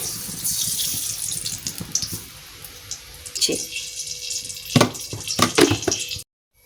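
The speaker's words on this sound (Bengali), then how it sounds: "করে সবজিটা ধুয়ে নেব" Tap water pours and splashes as vegetables are rinsed in a home kitchen for homemade Maggi noodles, a steady close rush with brief clatters before it stops abruptly.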